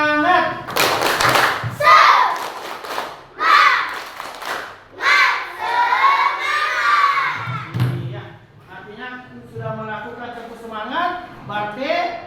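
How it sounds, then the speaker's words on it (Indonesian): Schoolchildren perform a rhythmic spirit clap in class, loud bursts of patterned clapping mixed with shouted chanting, while a teacher's voice leads and talks between rounds. "marilah kita melakukan tepuk semangat dulu ya"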